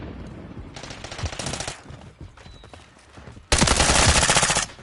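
Automatic gunfire in Call of Duty MW3, two rapid bursts, a shorter one early and a louder sustained burst near the end, over scattered in-game noise and thuds.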